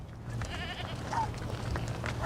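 Goats bleat in a gusty Saharan sirocco, their calls fairly close and repeated over a steady roar of strong wind.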